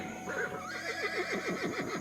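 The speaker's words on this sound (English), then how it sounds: "So Alexander sat on his horse" A horse neighs loudly and close by, with one long whinny that wavers up and down for about two seconds.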